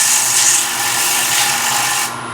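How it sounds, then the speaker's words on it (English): The edge of a wooden platter is sanded to break its corners, giving a steady, close, broadband rasping rub that runs for about two seconds with no talk. "I'm going to sand this edge slightly only to break these two corners."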